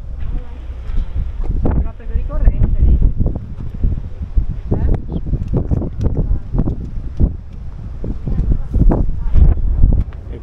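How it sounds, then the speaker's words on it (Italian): Wind gusting high up inside an abandoned seaside villa, a steady rushing roar with buffeting low rumble throughout, while people talk over it. "E qua in alto tira vento."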